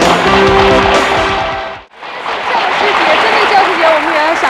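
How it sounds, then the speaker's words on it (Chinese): A studio audience on a variety show applauds and cheers loudly, a dense wash of clapping that briefly dips to near silence midway before swelling back strong, with a voice speaking over the noise. "我们给这个妥中华欢呼一下，妥中华。"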